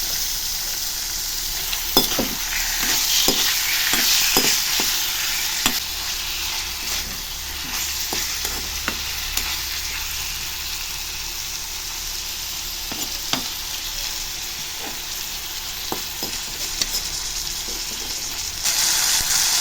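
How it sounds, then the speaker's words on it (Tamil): Chicken sautés in oil in a pan, a continuous sizzle with scattered sharp clicks of a utensil stirring and scraping throughout, close and steady with no talking. "அடுத்ததாக சிக்கன் ஆட் பண்ணிக்கலாங்க. இது எண்ணெயிலே கொஞ்சம் வதக்கினா டேஸ்ட்டு நல்லாயிருக்கும்."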